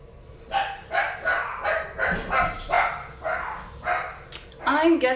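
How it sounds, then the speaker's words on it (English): Several dogs barking repeatedly indoors at a delivery man at the door, a steady run of loud barks about every half second, ending in higher yips and a whimper. "So if you heard my dogs barking,"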